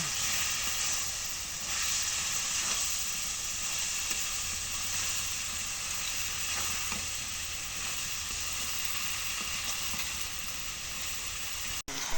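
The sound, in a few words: spices and leaves frying in a pan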